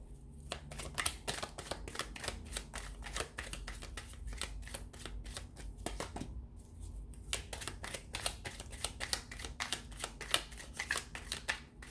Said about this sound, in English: So we'll give the cards a shuffle and see what's coming up for you guys